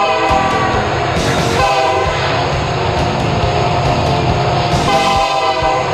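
A Union Pacific train rumbles past close by, loud and steady, with its horn blaring in long, repeated honks over the clatter of the rail cars.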